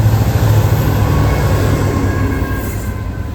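A Norfolk Southern freight train on the Charlotte District, led by BNSF locomotive 242, works hard with a loud, steady rumble and roar that holds continuously without a break and without voices.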